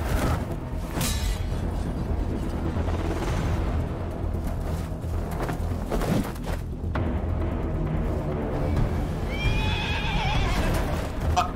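A horse in a Minecraft movie whinnies loudly over clip-clopping hooves, with booms and a busy, dense soundtrack, no voices heard.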